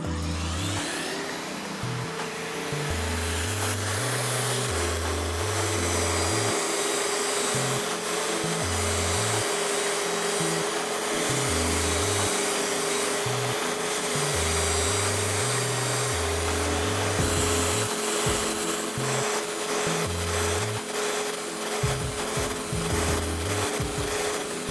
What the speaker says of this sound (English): Now that we have all of the faces sanded and we've also rounded the corners a little bit